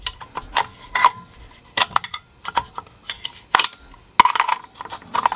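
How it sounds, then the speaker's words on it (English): A metal rifle magazine is pushed into an MDT Field chassis stock and pulled back out several times. The sharp clicks and knocks are close and come in irregular bursts, with no talking. "Metal mag, fits good. Comes out easy."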